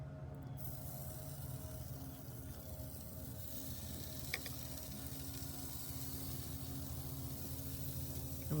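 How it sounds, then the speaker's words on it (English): Bacon-wrapped shrimp sizzle steadily on a low grill, a constant close hiss and crackle with a faint underlying hum and a single small pop midway. "The grill's on low. The shrimp are going on."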